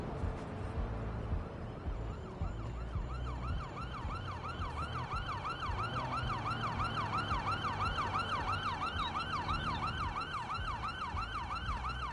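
Ambulance siren in the game Watch Dogs 2 wails steadily in a fast rising-and-falling cycle over city traffic rumble, loud and continuous throughout.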